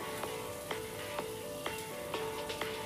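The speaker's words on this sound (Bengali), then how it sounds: "মিষ্টি কুমড়োকে এবার হালকাভাবে ভেজে নিতে হবে।" Pumpkin pieces fry lightly in oil with dried chilli over a medium flame, a soft, quiet sizzle punctuated by small regular ticking pops about every half second.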